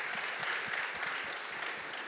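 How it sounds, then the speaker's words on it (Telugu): An audience at a film talk event claps steadily in a warm, even round of applause, many hands blending into a dense patter that continues without a break. "So big round of applause ఇవ్వండి."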